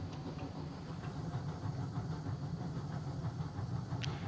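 A train rolls steadily along in the railroad game RailRoads Online, with a continuous low rumble and faint hissing steam, plus a brief higher squeal near the end.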